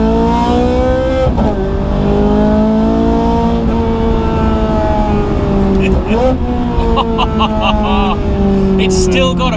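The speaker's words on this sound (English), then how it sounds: "Let's try and hear the car." A Ferrari 430 Scuderia engine heard from inside the car, a loud droning howl that rises and falls through gear changes and revs, with people talking over it.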